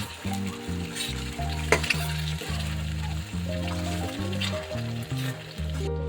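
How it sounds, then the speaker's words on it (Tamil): Ground tomato paste sizzles and fries in a pan while being stirred for a tomato relish, a steady close crackle with occasional scraping under light background music. "அதுக்கப்புறம் அப்படியே கலந்து விட்டுக்கலாம்"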